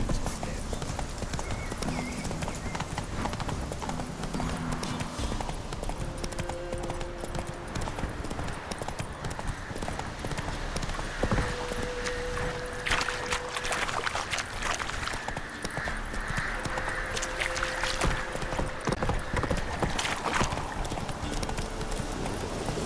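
Horse hooves clip-clop in a steady galloping rhythm throughout video game play set in The Witcher 3, loud and continuous with game music and ambient sounds mixed in.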